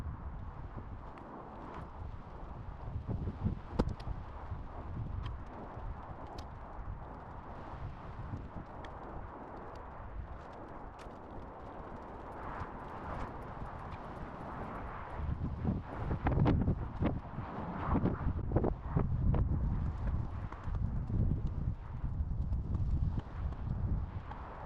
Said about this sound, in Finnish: täällä on se melkoinen tuuli tällä hetkellä